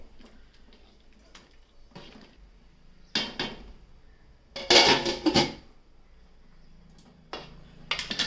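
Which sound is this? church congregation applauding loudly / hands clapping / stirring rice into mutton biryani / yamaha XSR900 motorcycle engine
stirring rice into mutton biryani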